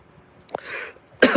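A single short cough, then a breathy throat sound and a second harsher cough at the end, close and fairly loud.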